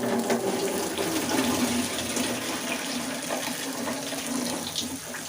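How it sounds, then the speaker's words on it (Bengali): Water is poured into duck meat cooking in a pan, a steady close splashing and running-water hiss that holds for several seconds. "দিয়ে দিয়েছি সামান্য পানি।"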